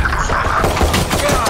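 Rapid bursts of gunfire in the shooter video game Valorant, dense overlapping shots at steady loudness across a short stretch, without talk.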